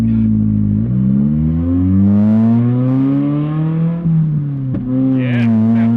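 A Toyota MR2 engine revs up and down close by, its pitch sliding and climbing in long sweeps with a brief dip before rising again, loud and unaccompanied by talk.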